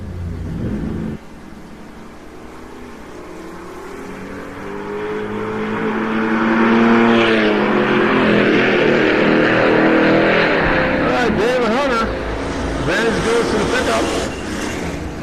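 A Camaro and a pickup truck drag racing at a raceway, engines roaring loudly as they accelerate with rising revving pitch, sustained and near, with faint announcer talk underneath.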